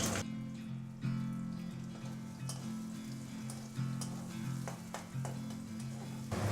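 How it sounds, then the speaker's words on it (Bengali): Onion and black cumin frying in mustard oil give a steady, close sizzle with a low hum underneath and scattered sharper crackles throughout, with no voices. "এর মধ্যে দিয়ে দেবো কালো জিরে সামান্য, আর দিয়ে দেবো পেঁয়াজ।"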